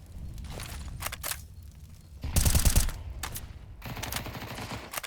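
Automatic gunfire sprays in bursts during a competitive Counter-Strike match on the Inferno map: several rapid rattling volleys with short gaps, the loudest burst in the middle, crisp and close with no talk over it.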